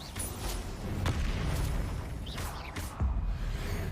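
An Incendio fire spell is cast in the Hogwarts Legacy video game, giving a few heavy booming bursts with fiery whooshes among louder impacts in a busy combat mix.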